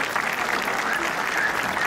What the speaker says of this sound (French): On peut l'applaudir, madame Vialanex.